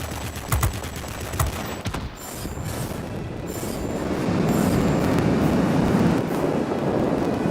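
Rapid aircraft gun fire in an online multiplayer air-combat video game, bursts of sharp shots early on that give way to a loud, steady mechanical roar and rumble, with no voices.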